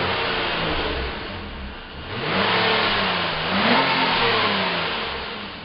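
A struggling car engine with a knocking fault revs up and down in two long swells over a continuous rough drone, close and without talk.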